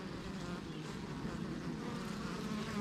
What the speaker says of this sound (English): There's a lot of bees underneath.